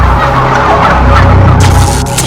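Domestic turkeys, selectively bred broad-breasted birds, gobble loudly and continuously in a dense, overlapping chorus with no talking.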